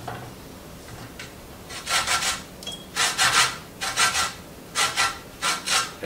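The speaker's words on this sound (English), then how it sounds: "I'm going to zest my lemon." Lemon zest scraped on a grater in a kitchen makes a series of close, rhythmic rasping strokes in short bursts with brief pauses between them, no speech.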